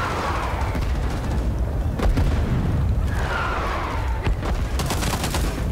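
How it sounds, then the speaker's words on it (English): Artillery barrage in a video game: repeated heavy booms and sharp blasts roll in through a dense, rumbling battle din, with several impacts landing close and loud. "Wait for the barrage to end."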